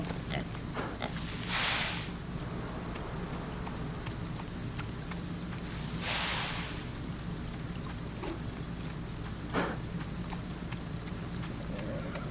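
Hereford pigs in a farming video game, scattered soft grunts and oinks mixed with light patter and clicks, faint and steady, with a few brief louder snorts.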